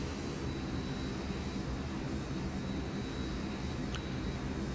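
An airliner in Microsoft Flight Simulator X descends toward the airport. Its engines make a steady, loud, broadband roar. The drone holds evenly throughout, with no talk over it.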